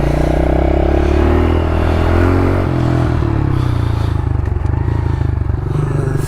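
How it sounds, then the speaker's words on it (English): Pit bike engines idle and warm up close by, a loud, continuous rough putter with slight revving changes and some clattering, no talking. "But we let the bikes warm up."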